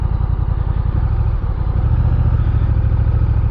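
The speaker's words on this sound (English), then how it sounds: "it is so crazy how you can just absolutely just putt this bike around" A Honda Rebel 1100 DCT motorcycle putts along at low speed with a steady, close, low-pitched thumping engine beat and no voices.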